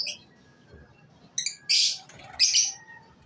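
Pet birds kept by a household chirping close by, a few short bright tweets and two louder harsh bursts near the end, with no talking.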